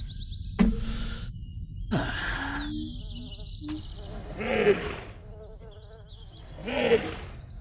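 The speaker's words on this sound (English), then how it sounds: "That sounds like a fucking goat." Bleating, goat-like animal calls in Riven's animal symbol puzzle, a few nasal wavering cries spaced out amid soft ambient tones and a sharp click or two.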